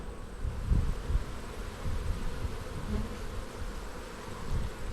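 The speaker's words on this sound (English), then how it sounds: "Got some bees up here" Honey bees buzz steadily around an open hive, a continuous low drone with slight swells in loudness, fairly close and with no voices.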